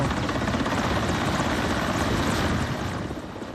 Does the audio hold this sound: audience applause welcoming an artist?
no